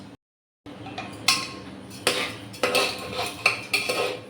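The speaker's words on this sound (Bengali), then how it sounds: "তেল আর ঘির মধ্যে চাল আর ডালটা দিয়ে আমি ভেজে নেব" Rice and lentils frying in oil and ghee for khichdi are stirred in a metal pot, giving irregular clinks and scrapes of a utensil against the pan after a brief silence, with no talking.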